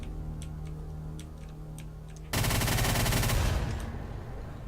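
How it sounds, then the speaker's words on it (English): A chain gun fires in the video game Brutal Doom 64 as a loud, rapid, continuous burst that starts abruptly midway, following a few faint ticking shots and quiet game ambience. "Where's my chain gun?"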